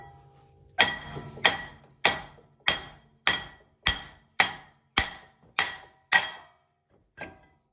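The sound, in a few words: hammering stuck brake rotor loose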